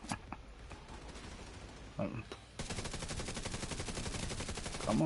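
Rapid automatic gunfire in the video game Division 2, with scattered shots early on, then a loud, steady burst of continuous firing running to the end, with some speech mixed in.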